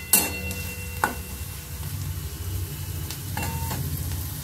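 Onions frying in a pan for chicken kofta curry over a medium-high flame, giving a steady close sizzle with a few sharp scrapes and knocks from stirring, no voices.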